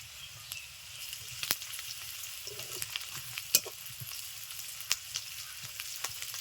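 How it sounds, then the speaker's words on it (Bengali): Chopped onion with crushed ginger and garlic fries in oil, a soft continuous sizzle with occasional louder pops and crackles, close and steady throughout. "দিয়ে দিচ্ছি পেঁয়াজ কুচি থেতো করে রাখা আদা ও রসুন"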